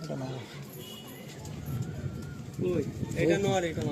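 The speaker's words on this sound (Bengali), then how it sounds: "এক সেট মালবাই পায়রা" Malbai pigeons coo in a loft in soft, repeated throaty calls, with people talking nearby and a fuller burst of cooing toward the end.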